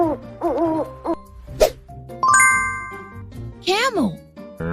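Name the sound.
owl hooting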